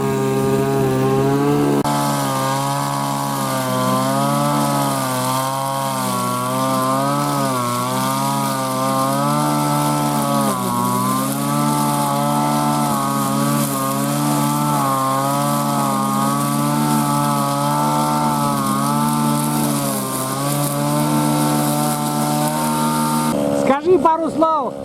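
Petrol-powered cutter roaring while working a potato field, a loud sustained engine drone whose pitch wavers as it loads and unloads, running nearly the whole time before cutting off at the end.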